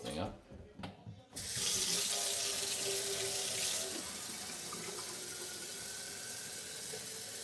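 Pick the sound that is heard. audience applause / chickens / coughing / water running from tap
water running from tap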